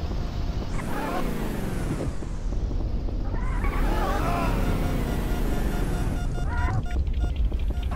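A car in the video game Payback 2 pulls away, its engine revving up in rising sweeps and rumbling steadily as it accelerates, loud and close throughout with no talking.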